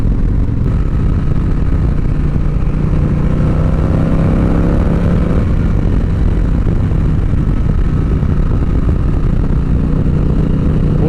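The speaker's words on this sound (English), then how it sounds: "Boy, this bike just has such an awesome exhaust note." A 2006 Harley Davidson Fat Boy motorcycle rumbles at a steady, loud exhaust note while being ridden, mixed with constant wind noise and no clear gear changes.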